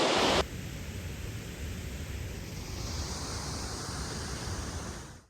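Waterfall on a river in Trysil, Norway, heard as a constant broadband rush of falling water, close and fairly loud. It holds steady throughout and fades out only at the very end.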